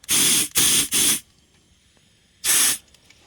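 An air compressor hose inflates an F-150 truck tire in sharp bursts of hissing air: three quick blasts in a row, a pause, then one more, close and loud with no voices.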